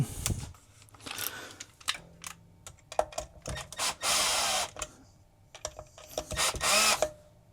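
A power drill driving a screw into a Fender Squier bass, several short whirring bursts between clicks and handling taps, close and fairly loud.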